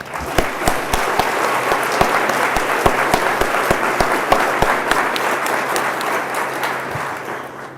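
An audience at an award ceremony applauds, a steady wash of many hands clapping with a few sharp nearby claps. The applause is loud, lasts the whole stretch and thins slightly near the end.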